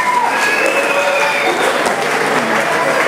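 Dense, steady applause from an audience at an evening party show in Moresnet, 2012, filling the room loudly and evenly for the whole stretch with a faint murmur of voices underneath.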